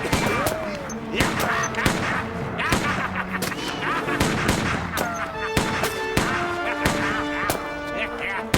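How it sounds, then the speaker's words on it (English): Rapid revolver gunfire from the horror-comedy film The Gingerdead Man, a string of sharp loud shots fired in quick bursts over a busy soundtrack with scattered talk. "The Gingerdead Man responds appropriately by going hog wild with that gun."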